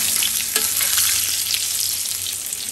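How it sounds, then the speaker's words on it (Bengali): Fish frying crisp in a pan with chili: a loud, continuous sizzle close by, with a few sharp pops and crackles near the start, no voices. "ভাজাটা পুরো কড়া ভাজা হয়েছে"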